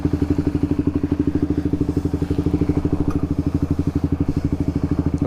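A motorcycle fitted with a new BRT clutch pulls away, its engine throbbing in a steady, loud, evenly pulsing beat from close by, with light mechanical clatter over the top.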